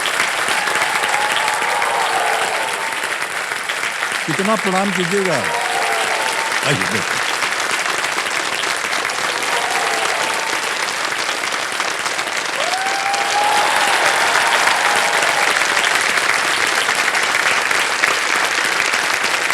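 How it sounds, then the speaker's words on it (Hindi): A studio audience claps continuously and loudly throughout a quiz-show stage entrance, steady dense applause with a host's voice briefly speaking over it. "तालियां बजती रहें"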